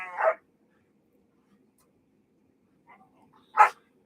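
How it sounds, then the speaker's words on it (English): Two playful dogs barking indoors, a couple of sharp isolated barks separated by quiet pauses, fairly close, with no talk over them. "Excuse the dogs, they're playing."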